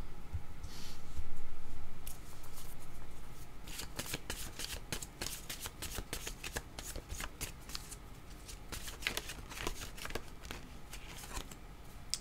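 Playing cards riffled and shuffled in a quiet room, with a steady run of crisp flicking and snapping bursts, then sharper card slaps near the end.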